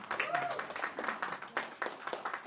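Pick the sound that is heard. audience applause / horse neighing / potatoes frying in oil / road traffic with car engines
audience applause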